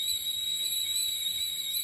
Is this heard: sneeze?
no